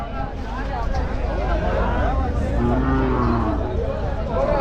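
Cattle moo amid a noisy crowd at a Hallikar cattle market, low drawn-out calls rising over chatter and background babble at close range.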